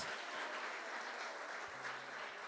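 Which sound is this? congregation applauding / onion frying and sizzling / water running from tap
congregation applauding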